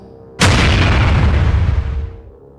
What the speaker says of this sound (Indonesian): Udara menghilang sejenak, lalu kembali dengan dentuman yang sangat keras.